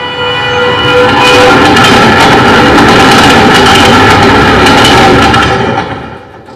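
Night express train rushing past as a sound effect, a loud, dense rumbling roar with rhythmic clatter that swells quickly, holds for several seconds and then fades away, with no voices.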